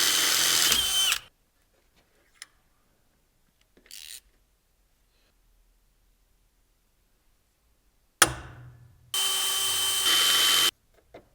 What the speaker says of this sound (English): I'll just have to drill and tap a couple holes into the side of the machine here to mount it.